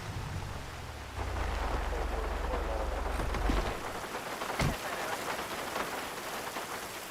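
Continuous rain pours throughout in the video game GTA Online, with a low droning rumble fading out in the first half and a sharp thunder-like crack near the middle.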